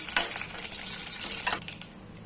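Mustard seeds, urad dal and curry leaves frying in oil, a faint crackling sizzle with a few sharp pops and stirring scrapes, fading toward the end.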